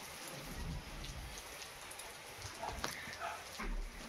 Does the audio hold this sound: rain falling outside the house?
yes